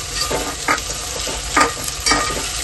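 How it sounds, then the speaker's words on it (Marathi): Tomatoes being sautéed in a pan for a chicken rassa, a loud continuous sizzle broken by several scraping spatula stirs, close up with no talking. "टमाटे चांगला परतून घ्यायचा"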